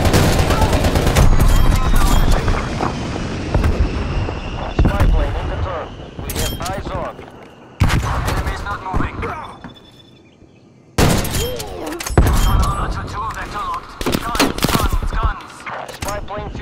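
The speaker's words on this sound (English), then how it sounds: "get a strafe run in" Loud, dense bursts of automatic gunfire and explosions from an aircraft strafe run in a video game, broken by a brief lull. Voices talk over the barrage.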